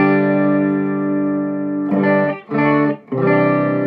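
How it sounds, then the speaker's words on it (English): Sustained electric guitar chord from a Fender HM Strat's humbucker pickup on a clean channel, ringing out, then a few more strummed chords with brief gaps, loud and close. "let's go and listen to some clean tones on the guitar here"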